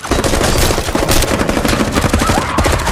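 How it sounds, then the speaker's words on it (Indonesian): Gunfire in a drama scene, dense rapid bursts of shots sounding continuously and loud for the whole stretch, like a sustained fusillade with no voices. "karena mereka semua terus dihujani dengan tembakan"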